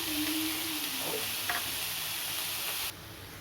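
Ginger and garlic paste sizzling in a pan with dried red chillies and chopped onions, a close continuous hiss with a faint stirring scrape, cutting off sharply near the end.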